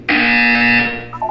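A loud, steady electronic buzzer from the Portal 2 video game sounds alone for about a second, then cuts off into brief trailing tones.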